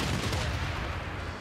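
A field cannon firing on enemy units in Civilization VI, a single loud booming blast that rumbles and decays over about a second and a half.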